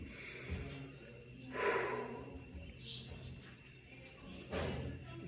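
Deep, audible breaths during a stretching routine, a few slow inhales and exhales with a sharp snort-like intake, close and soft against a quiet room.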